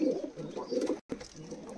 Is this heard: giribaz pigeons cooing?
yes